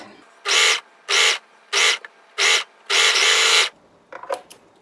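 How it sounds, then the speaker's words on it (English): An overlocker serger machine runs in five distinct bursts, four short and one longer, while it sews along the edges of a jersey knit sleeve. The bursts are loud and close, and a few faint handling clicks follow them. "I'm overlocking on the right side of the sleeve"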